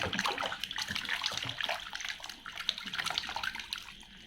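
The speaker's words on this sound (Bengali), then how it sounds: "চলুন আমরা শেষটি ধুয়ে পরিষ্কার করে নিয়ে দেখে নিই এটি কি।" Toy animal washed in water, continuous close splashing and swishing of water with small drips and handling noises, no talking.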